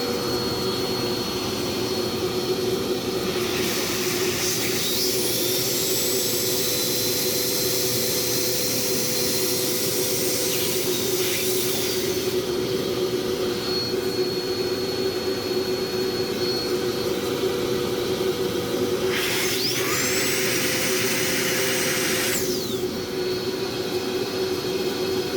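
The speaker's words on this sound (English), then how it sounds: "What really cleaned this up and got it to work again was simply sticking this into the nozzle of a vacuum." A vacuum cleaner roars loudly and steadily while drawing grit out of a Shark Wandvac WV201 motor through its nozzle, with a high whine rising and falling in two brief surges.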